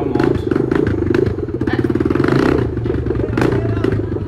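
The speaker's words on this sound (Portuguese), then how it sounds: "Ele tá fazendo barulho com a moto." A motorcycle engine revs and idles close by in a loud, rhythmic, pulsing clatter with rising and falling throttle, as people talk over it.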